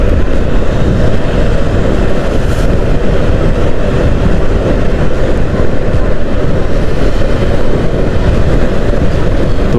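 Yamaha XMAX scooter cruising at about 4000 rpm and 50 to 60 km/h, a loud, steady engine drone mixed with road and wind rush, continuous with no voices.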